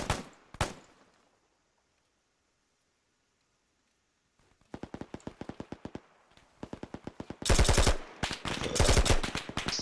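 Rapid automatic gunfire in a military video game, bursts of sharp cracks in quick rhythm with pauses between, growing louder and denser toward the end, near and loud.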